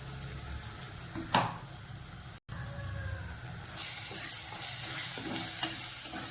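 Onions with garlic, pepper and cumin sizzle in a pan with a few scraping stirs, the hiss growing louder and brighter partway through as frying intensifies.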